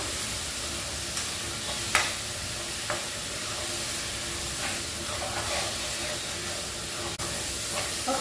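Salt being stirred into a tomato-onion masala frying in a pan for butter chicken, with steady sizzling and a few spoon scrapes and knocks against the pan, close and fairly quiet.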